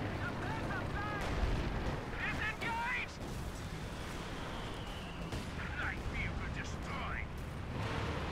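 Artillery fire in the Company of Heroes 2 strategy game, a dense rumbling battle din of distant booms and gunfire that runs through the whole stretch, with someone talking over it.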